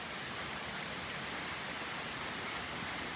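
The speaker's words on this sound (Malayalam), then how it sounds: "മഴ നിൽക്കുന്നില്ല മക്കളെ, മഴ നിൽക്കുന്നില്ല." Heavy rain pouring down steadily in a cold hill setting, a dense unbroken hiss of water hitting surfaces throughout, close and constant with no voices.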